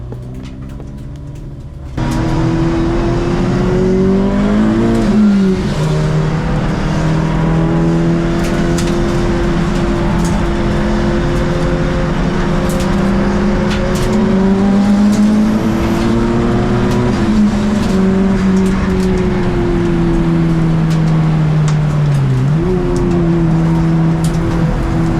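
Ford race cars roar off the start of race 1 at Brands Hatch: a loud, dense blend of engines that surges up after a brief quieter moment and keeps rising and falling in pitch as the pack accelerates through the gears.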